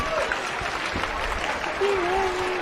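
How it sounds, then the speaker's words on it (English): Parents in a school hall clap for the children's performance at a school annual day. The applause is broad and moderately loud, and a voice speaks faintly over the clapping toward the end. "Please welcome them with a huge round of applause."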